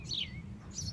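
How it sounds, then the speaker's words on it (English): A small bird calling from a bush at a UK nature reserve, two thin high chirps over a low outdoor background rumble, faint and close together. "with this bird in this bush"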